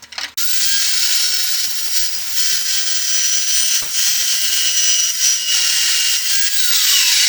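A saw cuts through metal stock in one long, steady, close pass, a bright continuous grinding rasp with slight surges and dips that starts abruptly after a brief moment.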